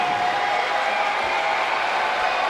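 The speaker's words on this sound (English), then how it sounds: "this large Dayton crowd making their presence heard" A large Dayton crowd roars steadily at a basketball game, a dense, continuous wash of cheering and applause filling the arena at moderate loudness.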